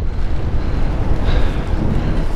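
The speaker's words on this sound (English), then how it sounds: "Oh, it's cold and windy today." Cold wind blows steadily across an outdoor microphone on a winter day near freezing, a continuous low rumbling buffet with no pauses, loud and close throughout.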